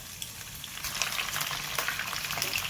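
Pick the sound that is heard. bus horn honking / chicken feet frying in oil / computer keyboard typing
chicken feet frying in oil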